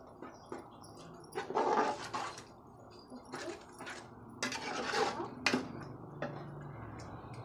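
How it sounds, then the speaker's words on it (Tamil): A spoon clatters and scrapes against a pot while curd is mixed into mutton biryani masala, with irregular close clinks and knocks in short bursts at a low overall level. "கர்ட் ஆட் பண்ணிவிட்டு நல்லா மிக்ஸ் பண்ணிக்கோங்க."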